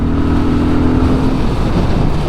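A motorbike engine in sport mode at around 4,000 revs on the motorway hums with a steady, loud drone, and its pitch sags slightly partway through. Heavy wind noise sits underneath the whole time.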